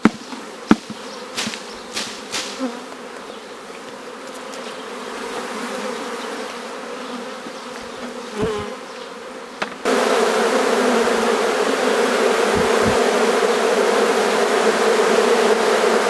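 Honeybees buzz steadily around a hive while a swarm is being caught, a continuous droning hum that swells louder partway through, with a few sharp knocks early on.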